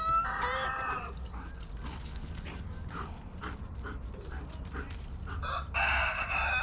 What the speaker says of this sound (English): She's playing with the rooster.